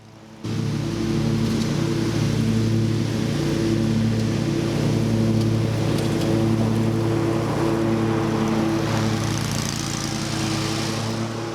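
A lawn mower runs steadily up close while striping a lawn, its engine drone loud and even throughout with no talking over it.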